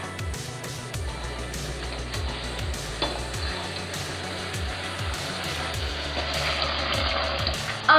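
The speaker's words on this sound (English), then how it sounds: "you're going to add your beaten egg into the pot. And mix it all in." A spoon stirs beaten egg into a melted gooey date mixture in a pot for a date slice, giving steady rhythmic scraping strokes over a soft background sizzle, with no one talking.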